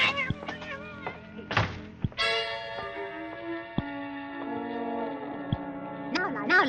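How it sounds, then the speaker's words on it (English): A cat meowing in an old radio drama, rising and falling meows near the start and end among hollow thumps and a sustained bell-like tone. "She's meowing and stamping around here like a herd of elephants."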